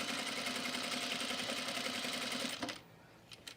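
A sewing machine runs steadily and loudly for about two and a half seconds, its fast even whir stopping abruptly, followed by a few faint clicks.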